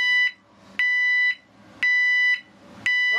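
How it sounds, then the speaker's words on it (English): An e2s reversing alarm set to a vehicle backing pattern sounds loud and close as a steady electronic tone in regular pulses, about half a second on and half off, with no one speaking. "Reversing alarm. So if you're going backwards, you put this on your car and it beeps."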